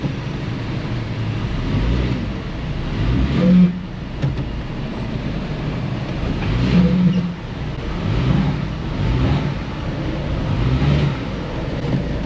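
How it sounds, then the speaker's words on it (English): A car engine is power-braked in an auto repair shop, held against the torque converter to try to provoke a misfire. Close, loud rumbling rises and swells in several surges. "You can do some power braking and see if we get this thing to misfire."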